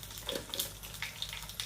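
Rapid crackling and popping of mustard and cumin seeds frying in hot oil, a dense sizzle with sharp little pops scattered throughout, close by.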